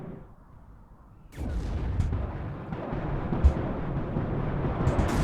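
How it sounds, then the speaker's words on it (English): Explosions and artillery fire in the video game Warno, a sudden heavy blast after quiet, then a sustained rumbling roar with further thuds and booms layered through it, loud and close. "Yeah, that's a massive explosion there."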